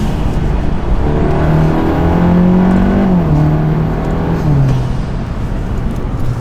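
A car fitted with an IE turbo inlet elbow accelerates hard, its engine note climbing steadily through the gears with exhaust valves closed and DSG crackles switched off, so the sound stays smooth and fairly subdued, close and continuous with no talking.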